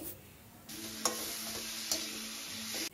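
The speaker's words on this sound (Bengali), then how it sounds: "এবার এখানে ভালো করে টমেটোটাকে এগুলোর সঙ্গে মিক্স করে নিচ্ছি" Tomato paste being stirred into frying spices for a kabuli chickpea curry, a bright sizzle that swells partway through, with two sharp utensil clicks against the pan, close by and without speech.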